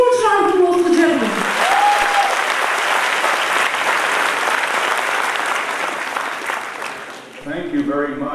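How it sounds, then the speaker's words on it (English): Strong, sustained applause from a conference audience welcoming a guest speaker at a marketing event in Bengaluru, with a voice speaking at the start and again as the clapping tapers. "Can you give a huge round of applause for the gentleman?"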